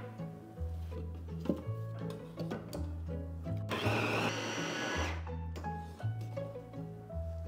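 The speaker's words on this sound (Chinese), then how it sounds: "这个三文鱼我打得非常的碎" Salmon and steamed rice whir in a food processor, the motor running in short bursts with a louder, rougher grinding stretch in the middle as the blades chop the mixture fine.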